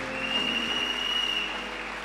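A church audience bursts into steady, continuous applause for the word of God during a sermon, a brief, even wash of clapping heard from within the room.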